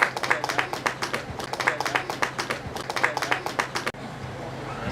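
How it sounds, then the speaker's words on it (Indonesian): An audience at a village gathering claps in a lively, uneven burst of many hands, close and loud, with a brief pause near the end before softer room noise resumes. "tepuk tangan Sidonari"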